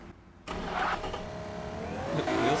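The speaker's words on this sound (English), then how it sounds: "Wheel spin right out of the gate." A race car's engine roars up suddenly at launch in the Automation game as its wheels spin, a loud sustained revving with rising pitch and a faint squeal toward the end, with no voices.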